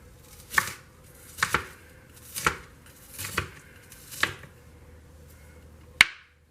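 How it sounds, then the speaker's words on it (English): Onion chopped with a knife on a board, six sharp separate chops spaced about a second apart, close and clear in a quiet room. "Let me chop this up a little bit more."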